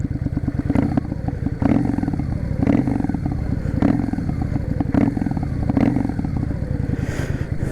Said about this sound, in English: I can't get over how good this thing sounds for a stock bike